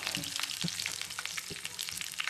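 Curry leaves hit hot oil in a pan with a steady, crackling sizzle and scattered pops, close and continuous for a few seconds while a masala chitranna is cooked.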